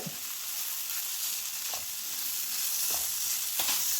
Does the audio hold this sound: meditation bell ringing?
no